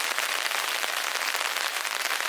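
Heavy rain drumming steadily on a tent during car camping, a dense, even hiss of countless drops close overhead, with no voices.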